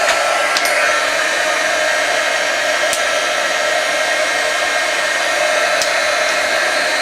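Electric heat tool blowing hot air onto vinyl on a vertical grain carving board, a steady close, loud whooshing hiss that runs unbroken throughout with faint clicks.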